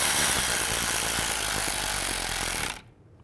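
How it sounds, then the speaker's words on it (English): Power tool driving in a screw on the front brake assembly of a 2011–2015 Chevy Cruze, a steady loud mechanical whir for almost three seconds that stops abruptly into near silence. "Reinstall this screw. And I'm just going to snug it up."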